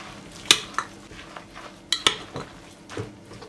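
A utensil stirs grated zucchini batter in a bowl for mücver, giving a series of close, irregular scraping clinks against the bowl with soft wet mixing in between, no talking.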